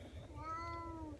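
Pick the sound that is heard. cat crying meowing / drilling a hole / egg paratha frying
cat crying meowing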